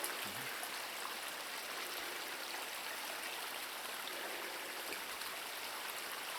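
Steady, gentle rush of flowing stream water, constant and broadband throughout with no voices.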